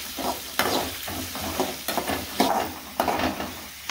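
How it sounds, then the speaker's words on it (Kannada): Onions with curry leaves frying in oil in a pan for mango rice, a steady close sizzle broken by regular scraping stirs of a spatula, with no voices. "ಇವಾಗ ಈರುಳ್ಳಿ ಹಾಕ್ತಾ ಇದ್ದೀನಿ. ಇವಾಗ ಚೆನ್ನಾಗಿ ಫ್ರೈ ಮಾಡ್ತಾ ಇದ್ದೀನಿ."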